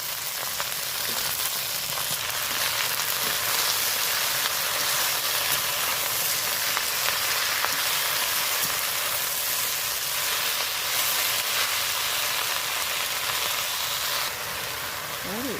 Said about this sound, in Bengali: এখন পেঁয়াজ রসুন ভাজা হয়ে গেছে আমি কেটে রাখা শাকগুলো দিয়ে দিলাম